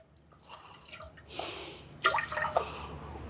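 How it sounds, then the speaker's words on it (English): Water splashing into a cooking pan to rinse it out before cooking rice, a short close pour with a swish and a few drips. "I'm gonna use a little bit of this water to clean this pan out."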